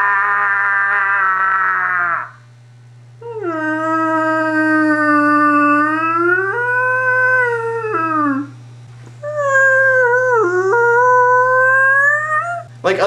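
A voice imitates a beached whale, giving long, wavering howls and moans in three drawn-out bursts separated by short pauses, loud and close over a low steady hum.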